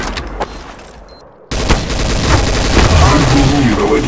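Gunfire in Counter-Strike: Source, a quiet stretch with faint game tones giving way to a loud, dense burst of rapid shots and booms that continues to the end.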